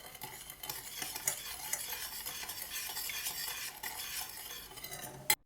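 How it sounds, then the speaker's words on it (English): Continuous stirring of a sweet and sour teriyaki sauce of sake, rice vinegar and sugar in a pan, with steady scraping and soft bubbling, ending in one sharp clink, and no talking. "Stir from time to time."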